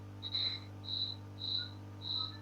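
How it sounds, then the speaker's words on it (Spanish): A cricket chirps in four evenly spaced bursts, clear and fairly close above a low constant hum in an indoor study-group setting. "Este grillo está haciendo estragos en este grupo."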